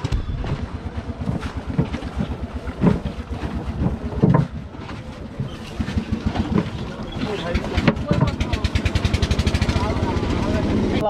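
A rented boat moves along the river at Jaflong in Sylhet, with steady wind buffeting and water noise throughout and a faster rhythmic pulsing building toward the end.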